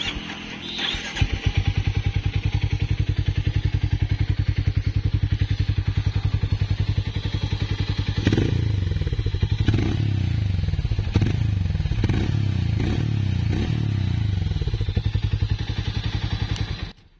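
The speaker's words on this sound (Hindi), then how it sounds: "उसके बाद आपको बाइक की साउंड सुनाते हैं एक बार जो कि काफ़ी बढ़िया आती है" A Harley-Davidson X440 motorcycle with its stock exhaust starts and then idles loudly and steadily up close, with a few throttle blips in the middle before it shuts off at the end.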